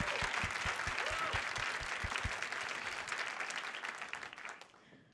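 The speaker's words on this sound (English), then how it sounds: "let's give another round of applause for our marimba performers" A live audience applauds marimba performers at an evening event, a dense, steady wash of clapping that stays full for several seconds before thinning and fading at the end.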